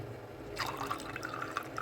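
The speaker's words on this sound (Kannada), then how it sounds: "ತಣ್ಣನೆ ನೀರು ಹಾಕೀನಿ" Cold water poured over ice cubes in a glass while making panaka, a sweet drink: after a brief pause, a bright, close splashing and trickling fill runs steadily to the end.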